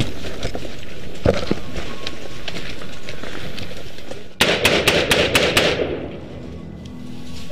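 An insurgent marksman fires on troops in combat near a drug lab: sharp distant cracks, several single shots and then a rapid burst of about six reports, over a noisy outdoor background.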